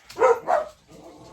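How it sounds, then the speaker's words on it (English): Two sharp barks from a house dog close by, quick one after the other, then a quieter low grumble as several dogs are kept partly indoors. "I do apologize for my dogs."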